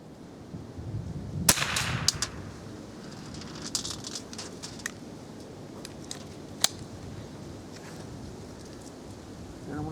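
A .22 rifle firing at a can outdoors: a single sharp shot early on, then a few fainter snaps later over quiet rustling background.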